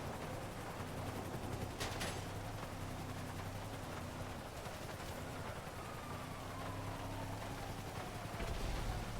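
Scattered gunfire-like bursts and explosions in GTA 5 over a steady noisy background, with a couple of sharper impacts standing out.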